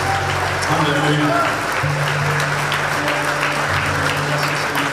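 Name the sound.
congregation applauding to God in church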